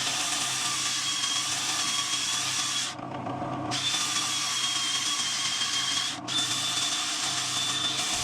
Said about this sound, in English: Now, just gotta sand it from 80 to 400 grit.